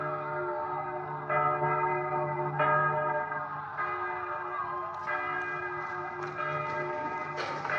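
A temple bell rings out as a warning across a city during unrest, with repeated strikes about every second or so, each one leaving a long ringing tone that overlaps the next, and no voices.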